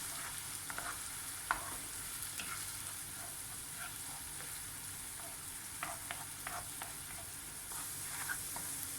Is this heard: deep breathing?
no